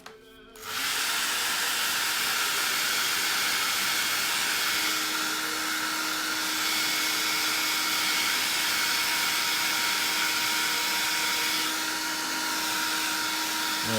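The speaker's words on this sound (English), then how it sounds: "get the hairdryer on it very quickly" A hairdryer runs steadily for about fourteen seconds, blowing on a snow-painted Christmas craft. The whoosh starts abruptly, stays loud and even at close range, and carries a faint steady hum underneath.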